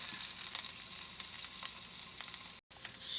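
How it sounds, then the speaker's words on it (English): Teriyaki-marinated chicken and vegetables in a stir fry sizzle loudly and steadily in a hot pan up close, a dense crackling hiss with a few pops and a momentary dropout near the end. "Stir fry."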